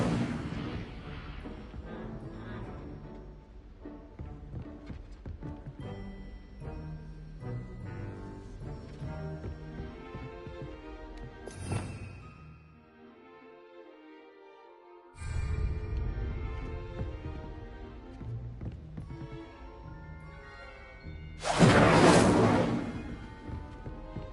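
The Incendio fire spell cast in the game Hogwarts Legacy: two sharp, bright whooshing bursts of flame, the second louder and longer, rising over continuous orchestral game music with softer effects.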